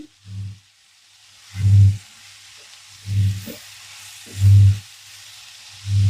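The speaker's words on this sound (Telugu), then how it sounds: "ఇది కూడా వేసి మంచి కలపాలండి ఇదంతా వేగాలి" Dried shrimp and tender tamarind leaves fry in a pan, giving a steady soft sizzle broken by five evenly spaced low thumps as the mixture is stirred and tossed, with no talking.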